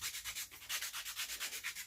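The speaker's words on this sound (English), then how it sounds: "Keep on sanding." Sandpaper works a sailboat's wooden tiller in quick, even back-and-forth strokes, a close, steady rhythmic rasp of about eight strokes per second with no talking.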